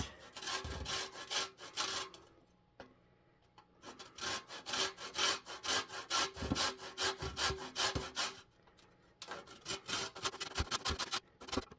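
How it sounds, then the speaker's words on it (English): Lemon and lime zest being grated on a small handheld grater over a jar: three bursts of fast, scratchy rasping strokes, close and fairly loud, with brief pauses between bursts. "I think I'm gonna zest some into the jar first, and then we will cut them up"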